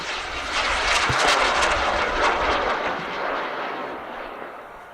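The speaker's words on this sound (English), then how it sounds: "Ignition, liftoff." Rocket liftoff at the EuRoC student rocketry launch from the Alpha 1 pads: a loud, sustained broadband roar with a sharp crackling burst near the start, holding steady and slowly fading over several seconds.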